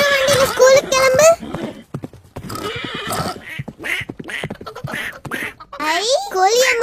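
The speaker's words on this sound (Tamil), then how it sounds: "குதிரை வண்டியில ஸ்கூலுக்கு கிளம்பு." Cartoon horse-cart hooves clop in a loose, steady series through the middle of the clip, mostly under cheerful children's-show voices and sung speech.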